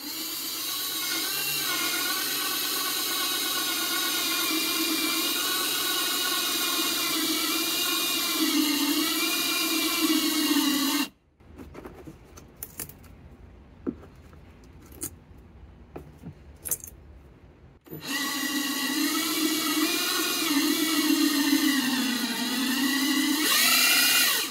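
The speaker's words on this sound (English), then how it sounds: "So I am in the right area, and I'm going to drill here." A power drill with a step bit whines steadily through the plastic cubby wall in the bed of a Ford Maverick pickup, loud and close. It stops for a few seconds of quiet handling, then starts up again.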